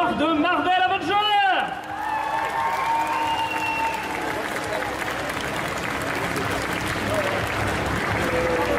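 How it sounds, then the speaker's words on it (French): Festival audience applauds a cosplayer dressed as Marvel's Thor at an indoor cosplay contest, with steady sustained clapping and crowd noise after a brief voice at the start. "je vous demande d'applaudir Thor de Marvel Avengers."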